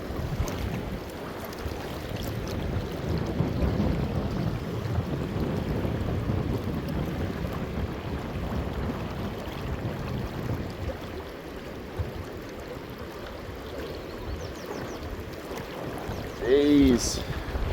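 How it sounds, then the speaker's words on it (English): Strong wind buffets the microphone on a fishing boat out on a river, a steady loud rumbling roar that runs throughout, with a brief louder gust near the end. "There's that wind again. I don't know if you guys can tell, but that wind is brutal."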